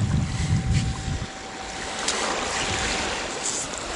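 Strong wind roars across an open beach at high tide, with heavy low gusts buffeting the microphone early on, then a steady broadband rush.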